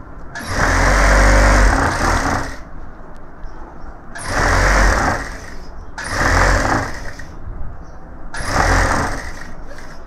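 A tailor's sewing machine stitches a gents suit in four loud, close bursts of rapid whirring, each a second or two long, separated by brief pauses.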